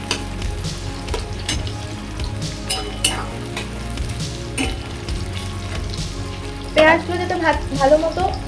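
Chopped onions frying in oil in a pan, giving a steady close sizzle with occasional stirring scrapes and a burst of louder spattering near the end.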